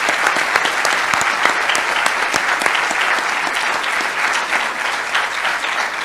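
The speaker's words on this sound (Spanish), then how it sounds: "permítame que hagamos este aplauso que lo quería pedir" An auditorium audience at a conference on constitutional justice models applauds the speakers with dense, even clapping that holds loud and steady throughout, with no voices over it.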